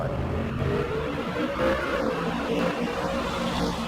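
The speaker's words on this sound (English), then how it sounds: "a whole bunch of fans congregate at this drag strip to enjoy the sights, the smells, the sounds of these muscle cars." Muscle cars rev at a drag strip, a continuous, fairly loud engine roar with a slightly wavering pitch, heard without anyone talking.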